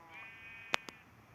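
A sheep bleats once in a horror-mod block-building game, a short wavering call followed by two sharp clicks, quiet and alone over faint background hum.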